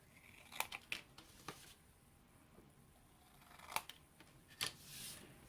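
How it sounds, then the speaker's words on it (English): Scissors snip paper for a mini album, cutting mitered edges in a few sharp, quiet snips spaced apart, close by with a soft room background and no talking. "take your scissors and you want to miter the edges right here"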